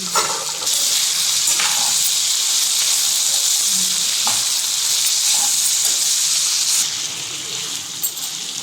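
Ginger brinjal curry frying in a pan as salt is stirred in, a loud steady sizzle and hiss close up with occasional scraping of the stirring spoon, heard alone.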